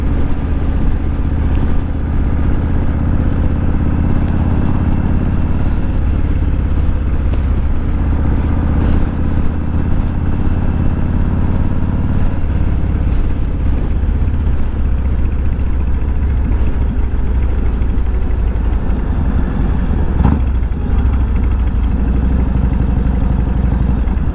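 Car engines roar in the Forza racing video game, a loud, continuous drone with shifting pitch as the cars race, steady throughout with no voices.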